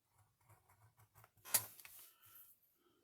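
Scissors snip a single sharp cut into a mask sheet for a doodle art collage, preceded by soft handling rustles and followed by a brief trailing rustle, close and alone.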